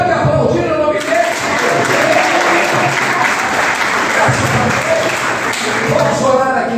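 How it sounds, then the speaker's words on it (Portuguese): A church congregation at a family worship service applauds loudly, a thick, continuous roar of clapping with voices talking and calling out over it. "Você pode aplaudir o nome dele?"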